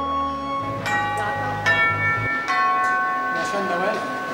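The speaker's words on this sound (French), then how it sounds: "Tu peux faire la cloche?" A bell is struck about four times during a musical performance, each clear, bright strike ringing on with sustained tones while voices and low sound continue underneath.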